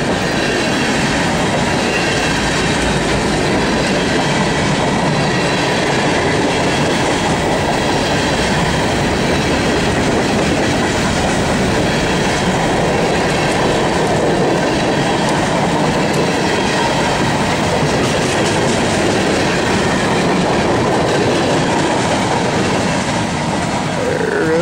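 CSX Q697 manifest freight train led by AC45 and SD70 locomotives passing near Cherryville, a loud, steady roar of rolling cars with clickety-clack wheel rhythm and faint squeals filling the whole stretch, no talk.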